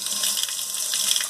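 Water runs steadily from a household faucet in a continuous, close hiss with no pauses and no voices.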